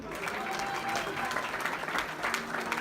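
An audience at a Club Med hypnosis show applauds in a dense, steady wash of clapping that holds evenly throughout, with a faint tonal hum underneath.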